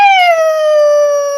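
A voice imitates a wolf's howl in one long, loud, steady tone that falls slightly in pitch, close by and uninterrupted, as part of speech therapy.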